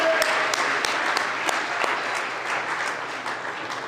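A room of listeners at a university pitch event claps steadily for a birthday, with a few sharp, close individual claps standing out over the broad applause.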